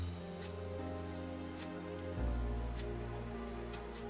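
Rain falling in Final Fantasy XIV Dawntrail, a soft steady patter under a low musical drone, with a few faint splashy ticks scattered across the scene.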